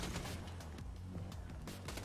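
Rapid bursts of dual-wielded shotgun fire in Borderlands 2 crack repeatedly in quick succession, loud and close, with faint background noise.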